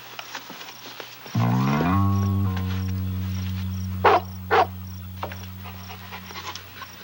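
A shaggy dog pants heavily and steadily at close range, with a long sustained breathy, voiced run and a couple of sharper huffs after it.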